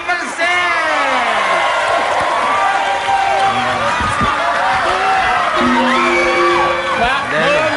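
A crowd cheers and whoops for a singer, a loud sustained roar of shouts and yells with clapping mixed in, continuous throughout.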